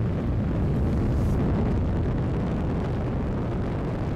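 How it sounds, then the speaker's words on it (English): SpaceX Falcon 9 rocket with Dragon capsule lifting off from Launch Pad 39A, a loud, continuous, low rumbling roar that fills the clip without letting up. "The 100th liftoff from Launch Pad 39A as Falcon and Dragon take flight to the International Space Station."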